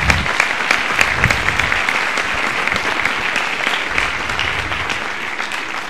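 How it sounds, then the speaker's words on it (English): An audience at a high school winter band concert gives sustained applause, dense clapping that stays steady and fairly loud throughout. "So how about another round of applause for them?"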